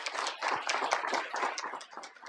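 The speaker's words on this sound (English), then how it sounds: "Please join me in an applause." Audience at a city council meeting clapping together, a steady patter of many hands lasting a couple of seconds at moderate level, with no talking over it.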